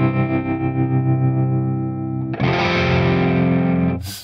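Electric guitar through ToneX chorus and tremolo effects, a sustained chord shimmering and wavering, then a brighter, more swirling pulsing wash of strummed tone before cutting to a short burst of noise; loud and close, no voices.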